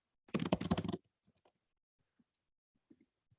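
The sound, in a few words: typing on a computer keyboard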